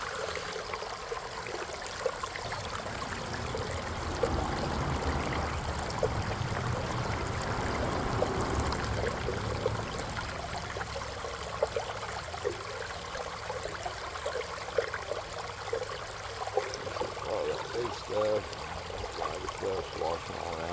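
Water washes dredge concentrates through a prototype RPE sluice with small riffles, a steady running, trickling flow that carries on throughout, with faint voices now and then beneath it.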